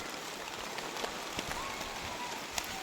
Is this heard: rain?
yes